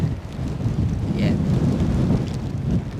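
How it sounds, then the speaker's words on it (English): Rain and gusting wind at Edinburgh airport, a thick continuous roar dominated by low rumbling buffeting, steady and loud throughout. "Rain's back in it."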